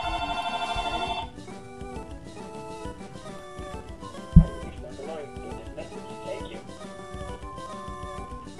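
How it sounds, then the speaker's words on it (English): A telephone rings in rapid pulsing bursts for about a second during a recording session, then stops, leaving chiptune-style video game music with one sharp thump. "Have a phone call in the middle of a recording session"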